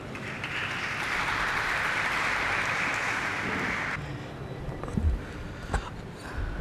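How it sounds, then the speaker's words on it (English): Audience applause at a stock exchange listing ceremony in Mumbai, steady clapping for about four seconds that cuts off abruptly, leaving room noise and a few thumps. "Can we have a huge round of applause for him?"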